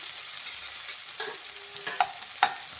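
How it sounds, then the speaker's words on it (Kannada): Finely chopped onion, two thick ones, frying in hot oil gives a soft, continuous sizzle up close, broken by a few light clicks and scrapes of stirring near the end. "ಎಣ್ಣೆ ಬಿಸಿ ಆಗಿದೆ. ಈರುಳ್ಳಿ ಹಾಕ್ತಾಯಿದ್ದೀನಿ, ಸಣ್ಣದಾಗಿ ಕಟ್ ಮಾಡಿಬಿಟ್ಟು."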